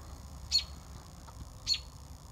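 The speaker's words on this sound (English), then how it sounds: "Freaking bird is crazy." A bird inside an abandoned buffet restaurant gives two sharp, piercing squawks about a second apart over a quiet, hollow room background.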